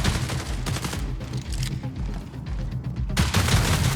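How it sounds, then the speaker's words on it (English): Rapid sidearm gunfire from the video game Marathon, a loud burst of close, sharp shots in quick succession with a brief gap before another volley near the end, no talking over it. "sidearm is a gun that is effective in close quarters, but maybe not too much outside of that"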